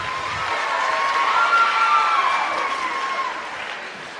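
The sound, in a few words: audience applause for volunteers coming on stage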